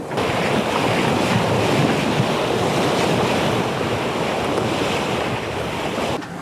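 Strong wind buffets the microphone aboard a sailboat off the Isle of Bute on Scotland's west coast, a loud continuous roar blended with surf and water rushing past the hull, with no talking.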